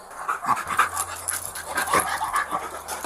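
An excited tracking dog pants rapidly and steadily up close, quick rhythmic breaths with faint whimpers mixed in, no talking over it.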